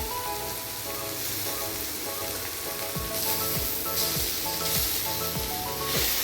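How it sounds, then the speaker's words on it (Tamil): Onions sauté for kuzhi paniyaram in a pan, giving a steady, loud, close sizzle with occasional stirring clicks and scrapes in the second half, and no voices. "வெங்காயம் பார்த்திங்கன்னா நல்லா வதங்கியிருக்கு"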